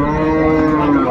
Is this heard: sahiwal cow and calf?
yes